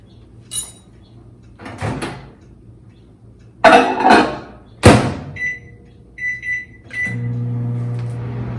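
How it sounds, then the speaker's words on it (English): A microwave door clunks open and shut, buttons beep, then the oven starts with a steady low hum, melting chocolate. "we have to melt the chocolate by putting it in the microwave for approximately a minute"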